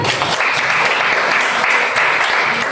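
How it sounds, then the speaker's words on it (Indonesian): A classroom of Indonesian students gives a round of applause, with dense, continuous clapping from many hands that stays loud and steady throughout, heard close with no clear speech. "Tepuk tangan dulu teman-teman."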